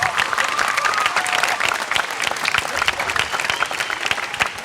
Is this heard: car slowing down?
no